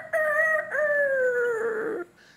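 A backyard rooster at a beach house gives one long, loud, close crow, a sustained bright call with a brief break near the start and a falling tail before it trails off.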